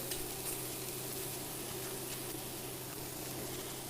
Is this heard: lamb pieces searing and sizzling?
yes